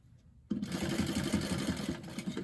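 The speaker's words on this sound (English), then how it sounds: "I'm going to just stitch" After a brief hush, a sewing machine starts stitching a fabric bag with a small D-ring, running at a steady, fast, close whirring pace until the end.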